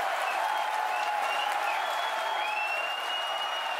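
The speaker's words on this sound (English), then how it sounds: "You can hear our crowd going wild." A dense crowd claps and cheers continuously after the landing of Falcon Heavy rocket boosters, a steady, loud wash of applause with whistles and shouts rising above it.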